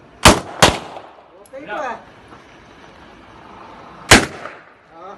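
Loud gunshots from a firearm during test firing in Bulacan, Philippines: two quick sharp reports near the start and a third about four seconds later, with brief talk in between.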